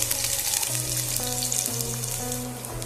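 Steady, loud sizzling of chopped ginger frying in hot oil in a pan for a Bengali chilli cauliflower dish, close up and continuous, with no voices.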